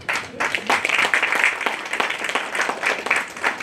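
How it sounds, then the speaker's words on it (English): A room full of people claps steadily, a dense patter of applause that starts abruptly and keeps going. "let's have a huge lot of applause"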